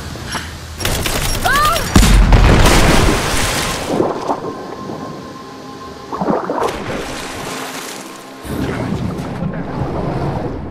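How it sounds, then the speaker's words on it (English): Grenade blast in the Rise of the Tomb Raider game: a loud, booming explosion with rolling rumble and debris, followed by further heavy bursts amid battle noise. "Throw the grenade."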